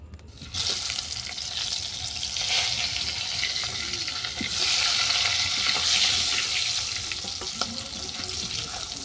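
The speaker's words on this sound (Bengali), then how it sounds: "এই তেলের মধ্যে আলুটাকে ভেজে নেব।" Potato pieces frying in hot oil in a pan, a continuous crackling sizzle that swells as they are turned and stirred, close and moderately loud with no talking.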